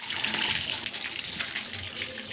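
A tap runs steadily for bathing, a close, continuous gush of water with no pauses.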